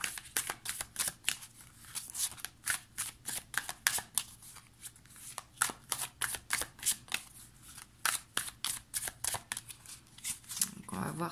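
Tarot cards shuffled and laid out at a reading table: a rapid, steady run of crisp card riffles and flicks, close and fairly loud, continuing for the whole clip.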